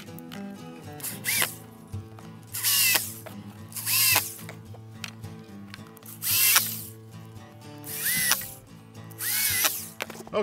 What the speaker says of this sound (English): I'm going to use an electric screwdriver.